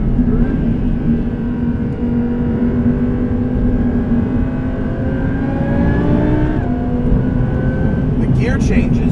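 A supercharged 800 hp Audi R8 accelerates hard from inside the cabin, its engine note droning and rising steadily in pitch under continuous road noise.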